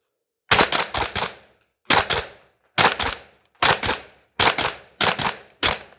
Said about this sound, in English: I think I'm going to have some more fun with the 9mm suppressed AUGs